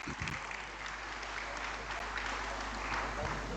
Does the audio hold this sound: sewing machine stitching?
no